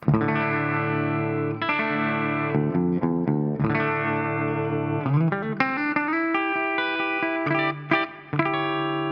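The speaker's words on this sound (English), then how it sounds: "let's bypass it right now and let's listen only the sound of my amplifier." A distorted, heavily compressed electric guitar plays sustained chords and single notes through an amplifier with effects bypassed, loud and continuous with ringing harmonics and brief pauses between phrases.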